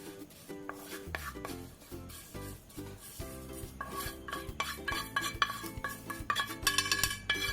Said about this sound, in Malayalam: വെർമിസെല്ലി ഇട്ട് നന്നായിട്ട് ഇളക്കി കൊടുക്കാം.